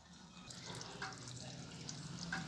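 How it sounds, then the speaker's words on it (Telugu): Water from half-cooked rice poured off through a pot or strainer for chicken biryani, a soft steady splashing and trickle close by with faint drips, continuous for a couple of seconds. "నీళ్ళు వంచేస్తున్నానండి."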